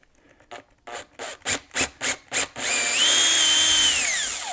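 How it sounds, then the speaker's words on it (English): A power drill bores into a household wall while large artwork is being hung, starting with several short, loud trigger bursts before a sustained whine that rises and bends in pitch as the bit bites through, close and alone. "I'll go ahead and drill this and show you how it actually works."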